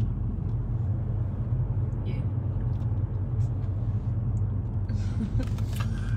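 A car drives along a town road on New Year's Day, its steady low engine and tyre rumble continuous and close throughout, with faint background voices.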